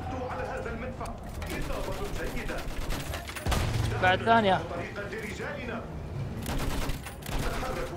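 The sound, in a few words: cannon and gunfire in Battlefield 1 video game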